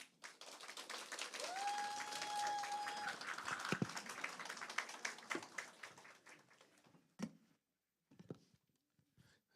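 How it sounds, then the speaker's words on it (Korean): A church congregation at an early-morning special prayer service applauds as a pastor comes forward to the pulpit. Clapping swells for several seconds, then thins out into scattered claps and fades to near silence. "나올 때 우리 한번 박수로"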